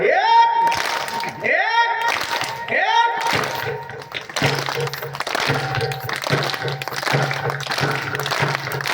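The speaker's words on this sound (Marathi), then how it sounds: "एक उतरनेवाली टाळी वाजवा" Audience at a Marathi kirtan during a harinam saptah clapping hands in unison, several sharp rhythmic claps with loud overlapping voices and a sustained tone throughout.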